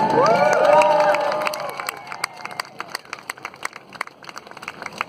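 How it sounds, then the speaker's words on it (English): A crowd at a rally cheers for lawyers: loud whoops and shouting voices swell at first, then fade into scattered clapping and sharp individual claps over the last few seconds. "giving a cheer to the lawyers who declared rebellion this week"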